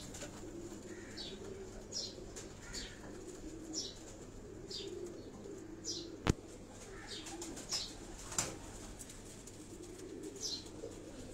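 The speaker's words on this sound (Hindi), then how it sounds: "ये तमाम उनके उड़ने वाले जो कबूतर हैं, हाई फ्लाइंग पिजन उड़ने वाले जो उनके कबूतर हैं" High-flying pigeons on a Karachi rooftop loft give soft, evenly spaced coos roughly every couple of seconds, close and moderate in level, with a sharp knock breaking in midway.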